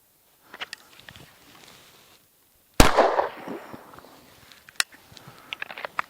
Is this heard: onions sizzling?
no